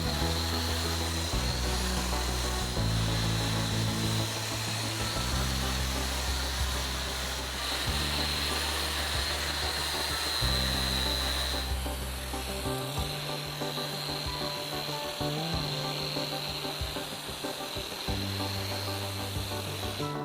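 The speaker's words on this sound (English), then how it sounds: "gonna go ahead and vacuum grind this area to get all this excess off each side" A steady, droning vacuum grinder runs continuously on a concrete pool deck with a motor whine, its pitch shifting now and then, loud and close throughout.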